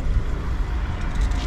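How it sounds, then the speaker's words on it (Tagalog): Strong gusty wind in Croatia buffets the microphone in low rumbling bursts, a steady roar with no voices. "Pero sobrang lakas talaga ng hangin."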